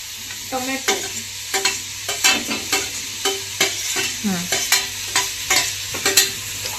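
Tomatoes tossed into a pan on lowered gas, frying with a sizzle while a spoon scrapes and stirs in repeated rhythmic strokes, close and clear, with no talk.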